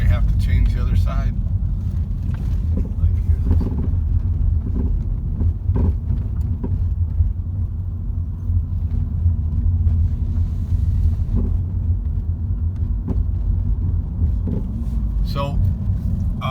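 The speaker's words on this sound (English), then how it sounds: "Hopefully you can hear that. I'm purposely hitting some bumps." Low rumbling road noise from a 2015 Ford Focus hatchback driven deliberately over bumps, with knocks from the rear suspension, steady and loud throughout; someone talks over it.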